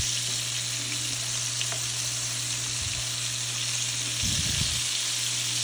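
Pieces of blood orange chicken fry in a pan, giving a steady, close, even sizzle. A few low clunks come from the cookware.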